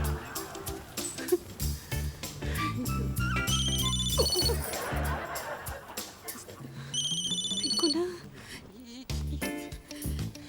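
A mobile phone ringtone plays at a party, a loud melodic electronic tune with repeating chime-like notes and busy background sounds around it.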